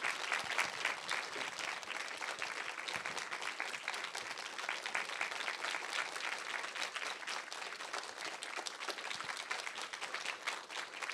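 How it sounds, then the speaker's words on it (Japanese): Sustained applause from a large audience at a film Q&A welcoming the director, dense steady clapping filling the whole stretch without pause. "welcome them with a big round of applause"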